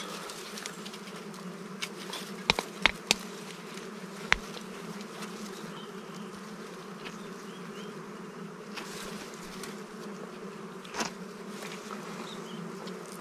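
Dwarf honey bees in Dong Nai, a continuous close, steady buzzing drone from the swarm with a few sharp clicks and knocks over it.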